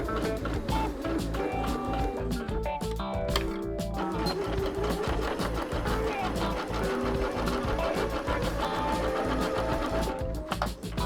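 A sewing machine runs steadily, stitching a muslin mock-up cut from an old bed sheet, with a fast, continuous mechanical rattle close by for the whole stretch.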